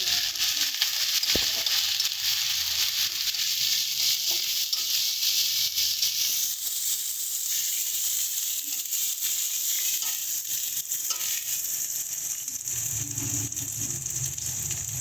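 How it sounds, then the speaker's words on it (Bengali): Ground spices, including dried chilli powder and cumin powder, sizzle steadily in a hot pan while being stirred, a continuous close frying hiss with faint scraping. "এবার সমস্ত মশলাগুলোকে খুব ভালো করে মিশিয়ে নিচ্ছি।"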